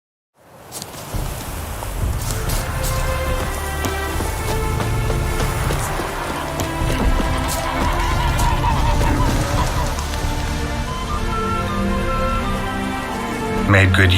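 Steady rain pours across the scene in The Witcher 3, a dense hiss with scattered drops and occasional tonal game sounds layered over it, fading up from silence at the start.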